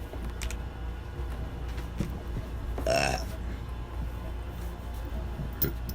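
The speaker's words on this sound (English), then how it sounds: "Can't stop burping." A woman lets out a single loud, drawn-out burp near the middle, close and prominent over steady background noise, with faint clicks around it.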